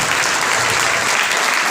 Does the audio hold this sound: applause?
yes